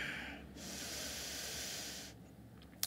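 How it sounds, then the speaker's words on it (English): A long, slow, hissing breath is drawn in and let out during a yoga forward fold, soft and close, with a faint click at the end. "A couple of good deep breaths here."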